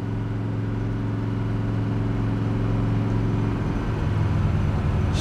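A 1969 Chevrolet Camaro SS in Baldwin Motion style with a big block 427 V8, a loud steady low rumbling drone heard from inside the car, alone with no voices.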